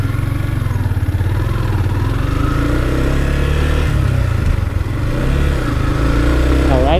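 A manual five-speed motorcycle pulls away from a stop, its engine a loud, steady low chug close by, holding even throughout the run.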